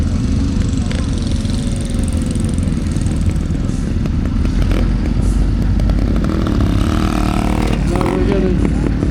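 A BSA motorcycle engine runs at a steam and craft show, a continuous low chugging rumble with occasional revving, heard close amid outdoor crowd noise.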